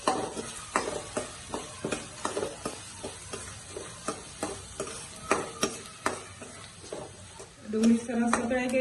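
Onions being stirred with a spoon in an oiled pan over a low gas flame while cooking dahi bhindi curry, giving a steady run of light scraping taps with a soft sizzle underneath, close and fairly quiet.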